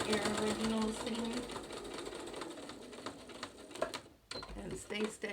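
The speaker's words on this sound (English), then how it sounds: "continue sewing that 1/4 inch seam until you meet your original seam" A sewing machine runs a quarter-inch seam with a quick rhythmic mechanical whir, fairly quiet and partly under a voice.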